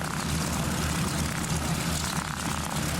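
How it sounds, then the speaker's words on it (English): A de Havilland Mosquito, KA-114, on final approach at a military aviation museum air show drones with a steady, loud propeller-engine roar that holds constant throughout. "coming in on her final approach, KA-114, the de Havilland Mosquito of the Military Aviation Museum"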